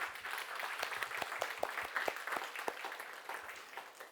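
A congregation at a Sunday Thanksgiving church service applauds in a fairly faint, steady patter of many hands, with no voices over it.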